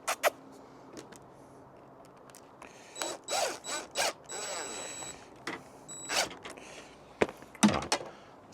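A T10 Torx bit tightens a blind fitting inside a Boxer camper conversion, giving short bursts of close ratcheting and whirring turns separated by pauses, plus a few sharp clicks and handling knocks.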